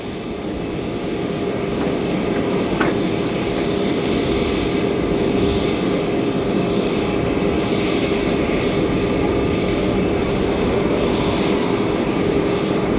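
A steady, loud engine roar of an aircraft at an airport arrival, constant and unbroken throughout with a broad rumbling hum.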